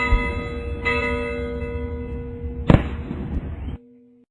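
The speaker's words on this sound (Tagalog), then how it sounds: "umaalingaw-ngaw na dupikal ng mga kampana" Church bells ring out during a grand procession at a church, heavy resonant tones sustaining and decaying with sharp firecracker bangs bursting among them, loud and near, ending abruptly.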